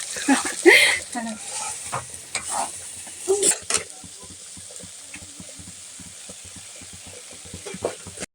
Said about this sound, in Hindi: अब अच्छे से इसको पूरी तरह से भून लेते हैं, तभी तो बनेगा अंडा का भुजिया